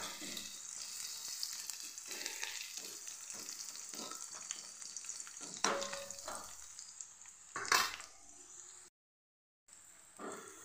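Garlic and cumin paste frying in a pan until golden, a steady close sizzle with bursts of louder crackle as it is stirred, cutting out briefly near the end.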